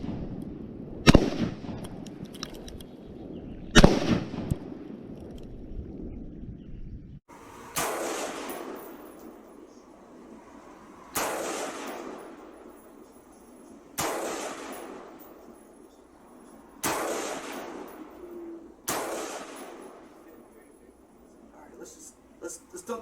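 Pre-ban Colt Sporter Target Model rifle fired outdoors in a quick series of loud, sharp shots, roughly six reports spaced a few seconds apart, each trailing off with echo; a voice is heard early on.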